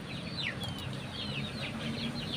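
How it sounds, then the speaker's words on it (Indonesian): A chicken clucks near a village home in short, quick calls over a steady outdoor background, with soft rustling and a faint wing-like flutter. "di depan udah ada ayam yang mau ikutan makan ini nih"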